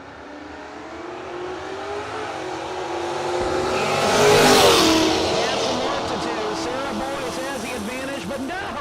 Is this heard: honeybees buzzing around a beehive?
no